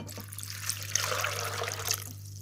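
Water poured into a Compact Cook Pro multicooker for a pea and bacon velouté, a close steady splashing trickle over a low constant hum.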